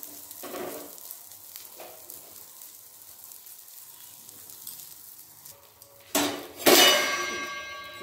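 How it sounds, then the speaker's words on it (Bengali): An egg fries in oil in a wok, a quiet sizzle under scattered utensil taps, then two loud metallic clangs near the end followed by a ringing pan tone. "ওই তেলে ডিমটা ভেজে নেব"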